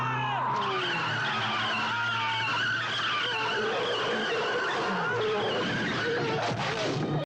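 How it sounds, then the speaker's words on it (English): A small car speeds and skids, its tires squealing loudly and steadily for several seconds over a dense, roaring engine and road noise, close by and continuous throughout. "Then a small car suddenly sped toward me."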